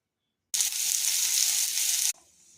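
A pot of meat curry boils hard on the stove, a loud close bubbling sizzle that starts abruptly after silence, holds steady for about a second and a half, then cuts off sharply.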